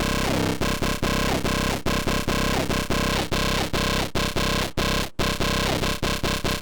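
A buzzy, gritty growl bass synth, EQ'd with boosted high mids and cut low mids, plays a rhythmic pattern of short repeated notes with pitch sweeps, dense and aggressive, with no voices.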